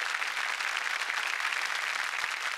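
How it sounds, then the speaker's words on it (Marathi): An audience at a Marathi comedy show's award function applauds loudly and steadily throughout, a dense, continuous wash of clapping with no voices above it. "जोरदार टाळ्या झाल्या पाहिजेत शुभम मोरे आणि विनायक पोद्दारसाठी."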